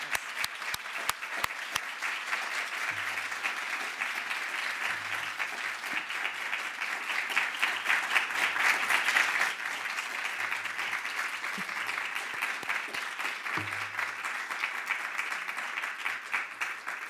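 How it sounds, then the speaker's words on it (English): Audience applause at a conference on overcoming violence, a long sustained patter of many hands clapping, building slightly midway and then holding steady throughout. "Please join me now in giving them a warm round of celebration and applause."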